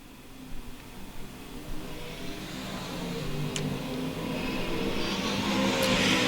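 USRA A-Mod race cars racing on a dirt track, their engines droning and revving in a steady mid-distance roar that builds gradually louder as the cars come around.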